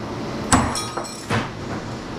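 A hammer striking metal while aluminum is scrapped, two distinct sharp clanging blows about a second apart, each with a brief ringing tail, plus a lighter tap, over steady background noise.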